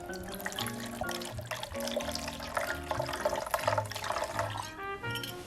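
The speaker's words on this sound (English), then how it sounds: "we're gonna add 6 ounces of water to this mix" Six ounces of water pours and splashes into a batched dry martini mix for several seconds, with a tonal musical backdrop running underneath.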